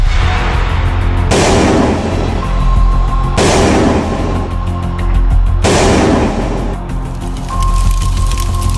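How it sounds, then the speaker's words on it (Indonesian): Artillery shells pound a town in four heavy booms spaced a couple of seconds apart, each followed by a long rumbling decay, loud and close. "menghujani Purwokerto dengan tembakan-tembakan artileri"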